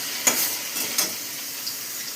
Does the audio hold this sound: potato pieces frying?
yes